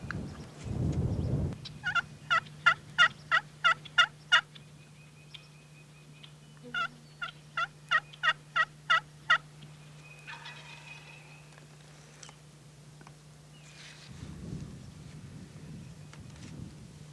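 A wild turkey gobbler in the woods gobbles in two clear bursts of rapid repeated calls, fairly distant, over a steady low hum and brief rustling at the start and end.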